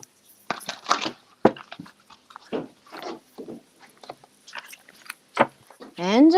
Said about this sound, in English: I hear the doggy.